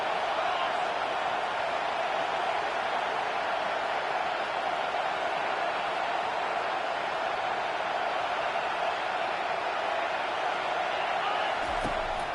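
A football stadium crowd roars in a steady, broad wash of noise at a college game between LSU and Texas, continuous and even throughout with no distinct peaks, under faint commentary.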